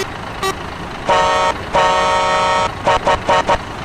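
A loud Volvo F16 truck air horn in American Truck Simulator blares, one short toot then two long blasts, followed by a string of quick staccato honks over engine rumble.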